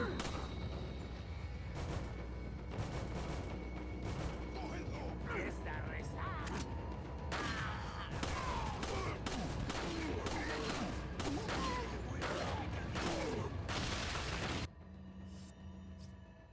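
Gunfire in the video game Resident Evil 4, shotgun-type blasts repeated in an irregular run over a steady game background, with a player voice talking alongside.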